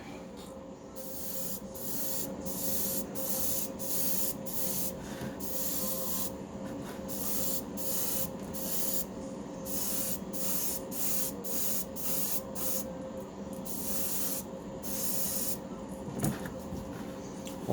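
A spray gun hisses out glow coat paint onto a fishing lure in short repeated bursts, each spurt a sharp airy spray over a constant low compressor-like hum, close up and without talk.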